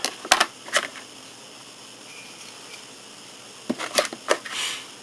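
Sharp snips and clicks as a plastic model kit part for a Sakura Taisen Koubu Kai is cut from its runner, two close bursts of cuts separated by a quiet pause.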